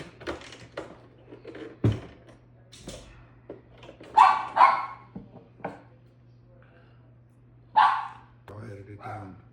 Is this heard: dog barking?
yes